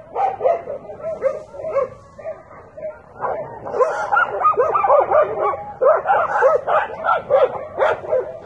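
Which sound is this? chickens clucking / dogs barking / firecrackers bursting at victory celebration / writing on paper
dogs barking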